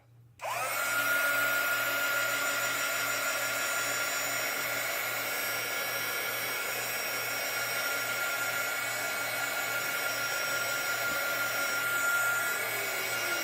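A hair dryer blows steadily on a chalk transfer board, a loud, continuous whirring drone that starts abruptly and holds without a break for the whole stretch, close up and alone.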